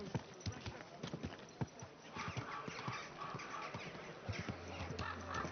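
Hooves clip-clop steadily on a road in Kingdom Come Deliverance 2 on a summer evening, a regular rhythm of close knocks under game ambience, with a voice talking over part of it.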